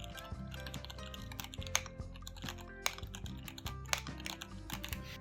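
Keys on a Kwumsy K3 mechanical keyboard, a model with a touchscreen, are typed in quick irregular bursts, each press producing soft, fairly quiet clicks that stand alone without speech.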